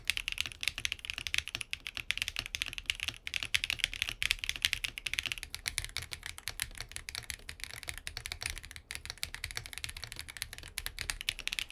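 Steady, fast typing on a QK100 mechanical keyboard with a flex-cut plate, close and even, a dense stream of crisp keystrokes with no pauses or voices.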